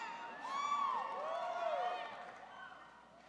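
Graduates cheer and whoop at a Hofstra University graduate commencement ceremony, a broad crowd roar with a few high whistles rising above it, sustained and moderately distant for about three seconds before easing off.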